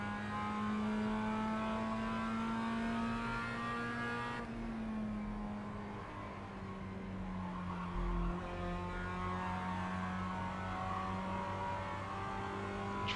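Mazda MX-5 engine in a racing sim, a steady mid-pitched drone with harmonic tones that dip and shift around a gear change midway, tire noise underneath, no voices.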